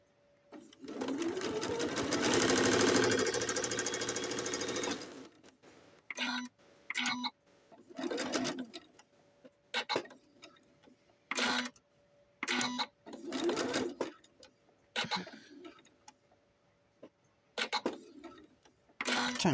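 Sewing machine stitching bra straps for a doll, one long continuous run of stitching up close, then a series of short, evenly spaced stop-start bursts separated by quiet gaps.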